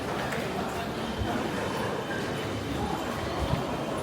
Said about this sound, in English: so many people on the subway, but I was kind of lucky to get a seat